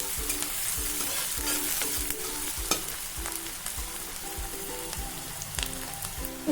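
Sliced onions and five dried red chillies fry in a pan with a bright continuous sizzle, punctuated by a rhythmic series of spatula scrapes and taps as they are stirred, close and unaccompanied by speech.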